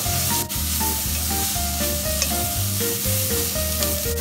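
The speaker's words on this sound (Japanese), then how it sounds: "フライパンに油をひいて、玉ねぎから炒めます。" Onions stir-fry in oil in a frying pan, a loud continuous sizzle with a steady rhythmic scraping from the stirring, close up and with no voices.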